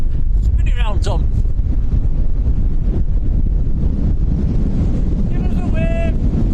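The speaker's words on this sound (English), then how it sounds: "It's very windy." Strong gusts buffet the microphone at Lanzarote airport in the Canary Islands, a loud, steady roaring rush throughout, with voices briefly audible underneath.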